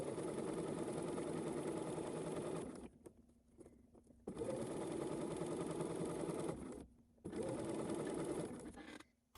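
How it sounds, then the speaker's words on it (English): A sewing machine runs in three close, loud bursts while stitching the fly facing on a pair of pants. Each burst is a rapid mechanical whir, separated by short quiet pauses. "after sewing on the fly facing, I then went and trimmed the seam down towards the large dot"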